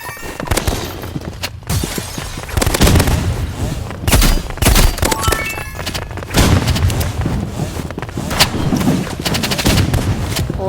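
Pistol gunfire and other weapons in a competitive shooter video game: loud, rapid bursts of shots and booms that crowd the whole stretch, with a faint voice now and then.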